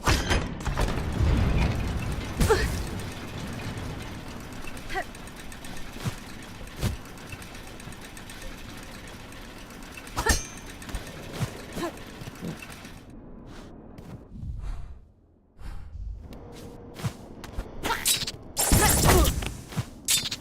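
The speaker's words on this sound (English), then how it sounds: "So, elevators, huh?" Mechanical rattling and ratcheting of an elevator mechanism in the game Silksong, a steady grinding clatter with sharp clanks, dropping out briefly near the end before a loud burst returns.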